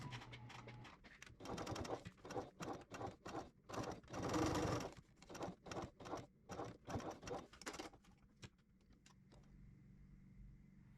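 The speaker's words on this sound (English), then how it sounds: "we're going to top stitch all the way around the perimeter of both of our strap connectors" A sewing machine top-stitching the perimeter of tote bag strap connectors runs in a quick, rhythmic burst of needle strokes for about eight seconds and then stops, leaving only a faint hum.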